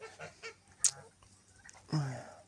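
Domestic geese on a farm honking nearby, a few short calls followed by a louder, longer honk.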